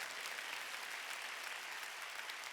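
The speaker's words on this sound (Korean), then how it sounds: "깨달은 사람만 박수치라고." Church congregation applauding during a Sunday worship service, a dense, even wash of clapping, fairly faint and distant, with no talk over it.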